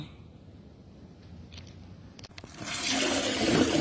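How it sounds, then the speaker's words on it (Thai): Halved mangoes washed under running water, a quiet start with a few small knocks before a loud, steady gush of water rushes in close for the last second or so. "ล้างให้ยางมันออกค่ะ"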